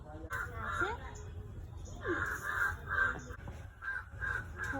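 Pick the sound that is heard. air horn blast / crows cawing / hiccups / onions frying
crows cawing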